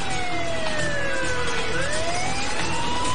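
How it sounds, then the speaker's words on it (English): An ambulance siren wails steadily as the vehicle speeds through a downtown business district in Huntington Beach, California, its pitch sliding down then rising again as it passes, loud and continuous with no talking. "An ambulance roars through the downtown business district."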